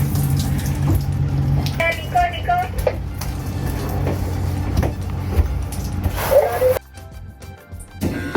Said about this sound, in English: I turn on the hose and I do a little bit of a wash down